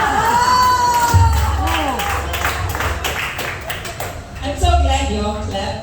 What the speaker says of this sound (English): You all clap.